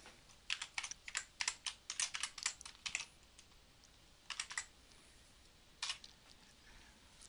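Quiet computer keyboard typing a file name, with quick bursts of close key clicks separated by short pauses and then a final brief flurry, no voices.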